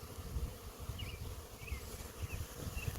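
Honey bee swarm in flight during capture, a steady low buzzing drone from many bees, with a few individual bees whining past nearer, alone and without talk.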